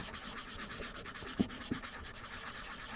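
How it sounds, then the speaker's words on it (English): Hard plastic on a Blythe doll's nose is sanded in small circles, a faint, even scratchy rubbing with a couple of soft knocks partway through. "I just start sanding."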